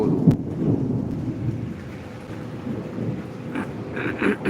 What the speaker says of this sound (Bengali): বৃষ্টি তো পড়ছে